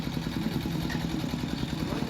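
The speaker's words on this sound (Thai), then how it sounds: "บ้านเพิ่นขับรถไถมาแล้ว" A farm tractor's engine chugs with a steady, rapid mid-pitched pulse and light clatter on a village road being built, fairly close and continuous.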